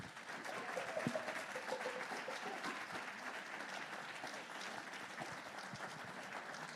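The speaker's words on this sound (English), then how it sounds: "give yourselves a huge round of applause" Audience applause at a virtual fundraiser for Exceed Enterprises, a steady wash of many hands clapping that holds at an even level throughout, moderately distant and without voices.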